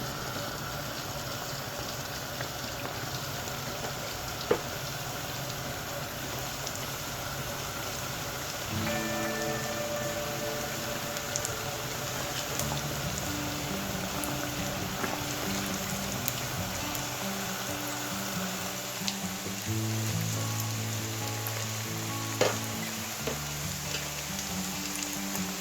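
Twisted doughnuts frying in vegetable oil over medium heat, a continuous close hiss and crackle of bubbling oil. Soft clinks and stirring sounds rise partway through, along with a faint background tone.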